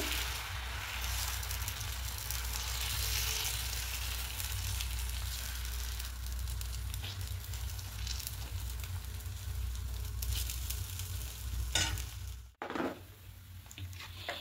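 Rice-flour batter for patishapta pitha sizzles steadily as it is spread across a hot pan, a constant close frying hiss with a brief scrape and clatter near the end.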